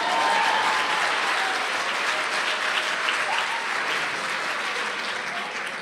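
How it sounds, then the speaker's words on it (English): An audience applauding at a keynote address, dense sustained clapping from a large crowd, steady and loud throughout, gradually easing toward the end. "Give them a big round of applause"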